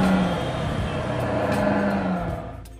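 Engine of a vehicle in a modded GTA San Andreas game on PS2, a steady, rough, droning hum that holds at the same loudness for a few seconds.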